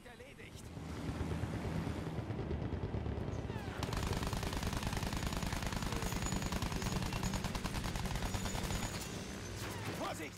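Rapid sustained machine-gun fire aimed at bombers in the video game Battlefield 1, dense and loud, running nearly unbroken after a short build-up, with engine drone beneath and someone talking over it.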